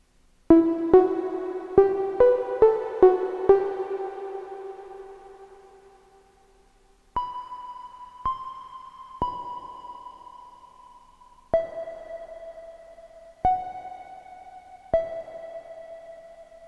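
A Volca Bass synthesizer plays a sparse response pattern: a quick run of plucky notes that rings out and decays, then after a pause a slower set of single tones at higher and middle pitches, each one clean and sustained, with no talking.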